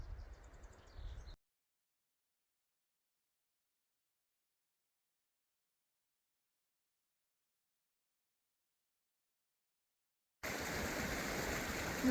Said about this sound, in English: The water is just flowing around me.